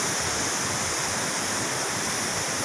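A river near Semeru volcano rushes in a steady, loud, dense torrent, a continuous broadband roar with no voices.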